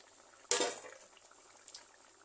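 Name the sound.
chicken curry boiling in pot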